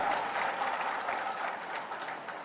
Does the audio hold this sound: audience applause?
yes